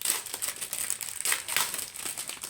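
Plastic packaging from a diamond painting kit crinkles and crackles up close in a steady, busy stream of small crunches with a few louder bursts, no voices.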